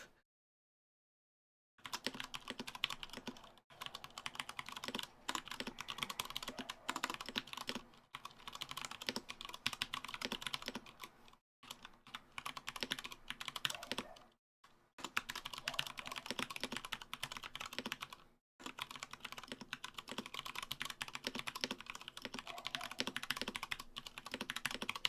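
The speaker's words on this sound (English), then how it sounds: "That way people can hear the keyboard because it's a keyboard stream." Typing on a mechanical keyboard with Cherry MX Brown switches: a continuous stream of quick tactile key clicks, close and clear, broken by a few brief pauses, with no talking.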